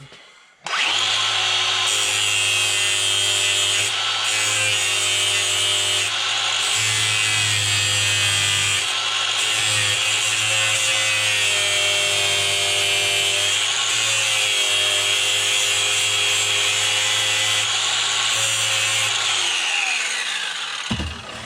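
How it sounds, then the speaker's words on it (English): A power grinder gently takes the nub off a 6L80RE transmission shifter bushing in one loud, continuous, close-up grind of about eighteen seconds, with a few brief dips as the pressure changes, before it spins down. "Now all I want to do is gently grind the nubbin off of it."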